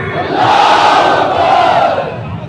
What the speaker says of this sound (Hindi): मैं नारा लगाऊंगा कलेजे की ताकत से, नारा तकबीर